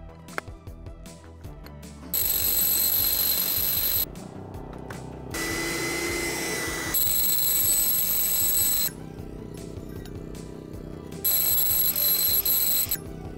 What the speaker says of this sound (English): Now is the time to mark the spots and drill the holes.